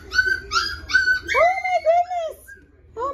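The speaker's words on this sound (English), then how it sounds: "Oh my goodness, they want to play." Three-week-old Petite Double Doodle puppies whimper and yip in a close series of high, wavering cries, one after another, with a brief pause before a final whine.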